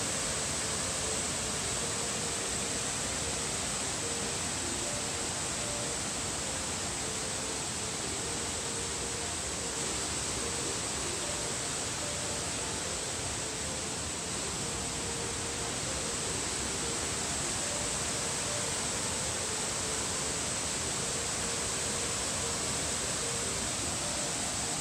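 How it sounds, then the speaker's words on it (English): Waterfall at Cascade Lake running heavy, a steady broadband roar of falling water that fills the whole clip without letup, close and continuous with no talk over it. "you can see the waterfall, and it's really coming down."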